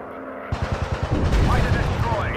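Rapid bursts of machine gun fire from a WWI fighter plane in the VR flight game Warplanes, loud and close over droning engine noise.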